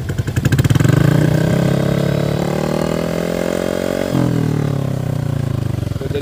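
Stock Honda Beat Deluxe scooter fitted with an MDM Zeuss muffler exhaust, idling close up with a steady hollow engine drone that rises slightly in pitch and then drops back, alone with no talk.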